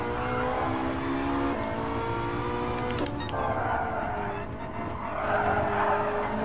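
A 900 hp Ferrari 458 on a race track revs hard through the gears, a loud harmonic engine howl with pitch climbing and a brief shift break midway, heard from inside the car.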